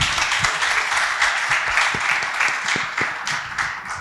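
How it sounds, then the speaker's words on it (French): Audience applause at a literary evening in Rwanda, greeting the introduction of a government minister: steady, dense clapping from a crowd throughout, with a voice faintly underneath. "On applaudit, s'il vous plaît."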